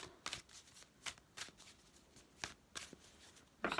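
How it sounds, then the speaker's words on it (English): A deck of cards being shuffled at close range, a series of quick riffling bursts in an irregular rhythm with short pauses between them, no voices. "Just give them a shuffle."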